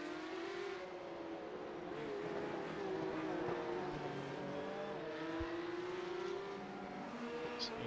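Porsche Cup race car in iRacing at Miami, its engine droning steadily as it brakes hard with a pitch that slides and drops, with faint tire noise and background commentary underneath.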